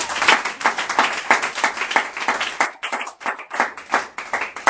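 A congregation at a Sunday church service claps in quick, uneven rhythm for several seconds, many hands together, fairly close and loud.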